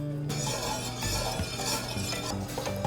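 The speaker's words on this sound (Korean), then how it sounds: "재료를 냄비에 다 넣은 뒤 센 불로 가열하며 저어줍니다." A spoon stirs and scrapes inside a pot of cream, milk and black garlic juice heating on high heat, with soft clinks and gentle swishing, close by and continuous, with no talking.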